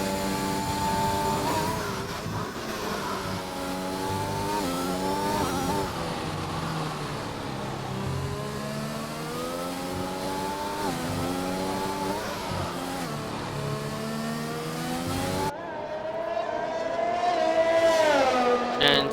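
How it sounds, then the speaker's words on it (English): A Williams Formula 1 car in a racing video game howls down a long straight past 200 mph on a Mexico circuit. The engine note rises steadily through several gear changes, loud and close, and a sharp cut partway through is followed by another rising scream. "He now heads down the long straight in the Williams as the car goes over 200, just over 200 miles an hour down the straight"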